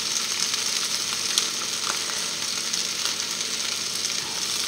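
Salted butter melts and sizzles in a pan of nearly cooked potatoes being fried until golden, a steady close crackle broken by faint stirring scrapes and small pops, with no voices.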